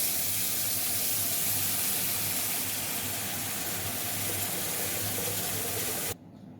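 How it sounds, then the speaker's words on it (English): Tap water runs steadily into a cooking pot in a home kitchen, a close, continuous gushing rush that stays even throughout before cutting off abruptly near the end. "I'm going to fill in water in my pot."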